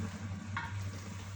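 Cluster beans and meat curry frying in oil, a steady soft sizzle with one brief stir scrape, a low hum underneath, close and moderate, with no talking.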